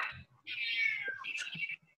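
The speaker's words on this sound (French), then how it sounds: "Ah ben le chat, il ne gêne pas" A house cat gives a long, drawn-out meow and then a shorter second cry, both close and clear, in a quiet room.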